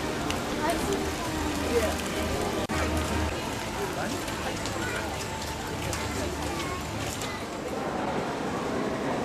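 Steady rain falls on an outdoor vintage car show at Strumpshaw, a continuous close hiss of drops with a brief knock partway through.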